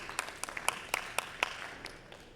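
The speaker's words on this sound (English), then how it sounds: "Applause for Lyra Music." A small audience at a startup pitch event gives thin, scattered applause, about a dozen sharp individual claps that fade out quickly and sound fairly distant.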